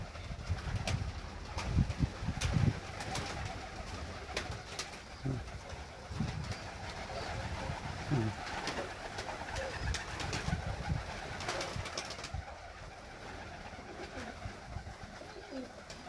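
Pigeons at a pigeon loft coo softly with scattered low calls and occasional wing flutters, fairly faint and steady throughout with no talking.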